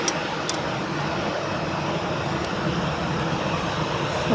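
An Air Canada Boeing 787-8 Dreamliner airplane heard as a steady, broad jet roar at moderate level, even and continuous throughout, seemingly some distance off.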